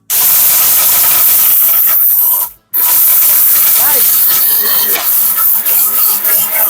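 An electric blender grinder runs at full power grinding powder, a loud harsh whirring roar that briefly cuts out and then resumes, with someone talking over the motor.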